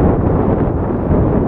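Wind buffets the microphone on a cloudy, chilly bike ride, a continuous low rumbling rush with no other sounds.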